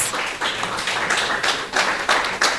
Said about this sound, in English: Please give all of our finalists a round of applause